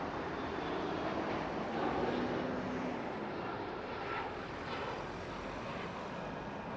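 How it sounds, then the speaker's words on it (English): A low-flying Air Asia airliner passes near the airport in Kewdale, Perth, Western Australia, producing a steady, loud broadband jet roar that fills the whole stretch with only slight swells. "There goes the Air Asia flight. Look how low it is"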